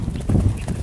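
Hoofbeats of a cantering horse, a short rhythmic patter of thuds on the ground, close and moderately loud with no talk over them.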